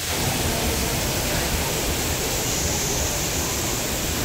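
Heavy rain pours down without a break at an outdoor concert, a loud, steady hiss that holds at the same level throughout, with no voices.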